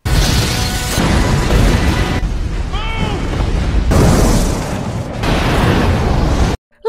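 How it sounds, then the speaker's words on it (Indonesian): A bomb explosion in the film Hollow Man (2000): a loud, roaring blast with crashing debris, followed by a quieter lull with a high whine, then another heavy roar before sudden silence. "Pas mereka mulai manjat, bomnya meledak."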